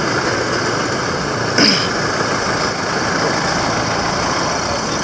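Street traffic on a road in Gambia near a car dealership area, a steady low rumble of passing cars and trucks with a brief louder swell from one vehicle, fairly distant.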